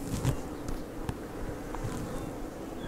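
A low, steady hum of many honeybees buzzing close by at a hive full of queen cells, the swarm hanging idle, with a few soft clicks and taps in the background.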